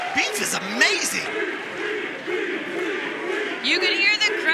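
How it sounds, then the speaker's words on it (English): Crowd at a Wrestling Revolver indoor pro wrestling show, voices swelling into loose rhythmic chanting and cheering that runs steadily throughout, with a commentator talking over it. "You can hear the crowd chanting for him already."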